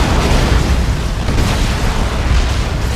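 An object is destroyed in the Dawn of War 2 video game, giving a loud, rumbling explosion that fills the whole moment with heavy, sustained booming and debris noise.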